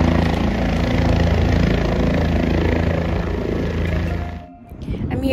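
A helicopter at a helipad in Manali thrums with a steady, loud rotor and engine roar for most of the stretch, then dips briefly near the end before rising again.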